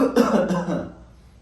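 A few harsh coughs close up, a quick cluster in under a second, then quiet.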